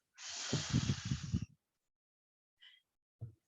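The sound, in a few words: deep breath in through nose, out through mouth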